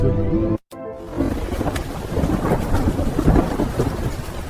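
A thunderstorm with a loud rumbling crash of thunder and steady heavy rain, briefly cut to silence before the downpour and roll of thunder return close and strong.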